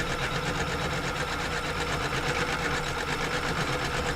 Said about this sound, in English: I'm often fascinated by how the machine breaks down stitching of things like